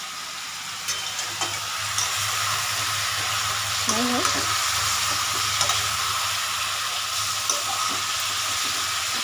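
Chicken meat frying in a pan for a light curry, a steady broad sizzle with occasional stirring clatter and scraping throughout, close and fairly loud.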